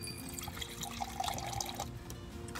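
Water trickling and dripping from the water tank of a minivan converted into a camper, a soft, close, uneven splashing flow at low level with no talk.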